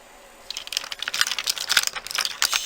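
Candy-cane red glitter resin dominoes are shuffled by hand on a table, giving a quick run of bright, overlapping clacks and rattles that starts after a short quiet moment.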